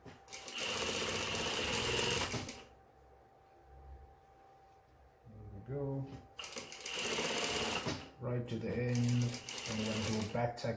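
A sewing machine stitches a pants seam with back tacking, its rapid, loud mechanical rattle running in bursts separated by pauses, with a person talking between runs.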